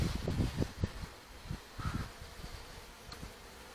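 Honey bees hum faintly at an apiary hive, a soft continuous buzz mixed with low muffled bumps and handling noise, with no talking.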